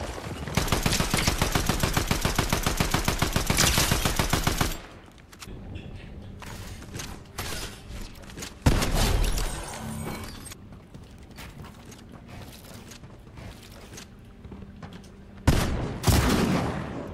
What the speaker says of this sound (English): that shotgun hits